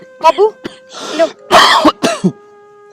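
Several harsh, close coughs and throat-clearing bursts in quick succession, loud and ragged, mixed with short bits of speech between them.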